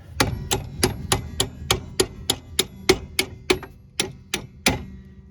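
A hammer strikes a bolt into a rear strut on a 1991-2003 Ford Escort, about a dozen sharp metallic blows in a steady, fairly quick rhythm, close and clear with no talk.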